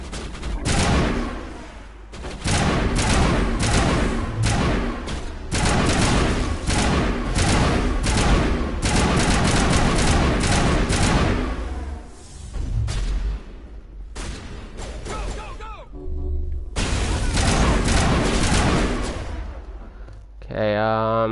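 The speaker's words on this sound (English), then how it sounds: "it looks like there's going to be some shooting" Rapid bursts of gunfire from a Mass Effect shootout, loud and sustained in long volleys with short gaps, some heavy booming shots among them.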